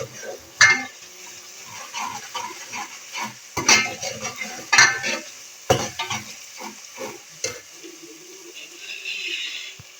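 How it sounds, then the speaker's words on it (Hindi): Spices crackle and sizzle in a hot pan while a utensil scrapes and stirs, with occasional clinks against the metal, as black chickpeas are being cooked. "मसालों को हम अच्छी तरह से फ्राई करेंगे।"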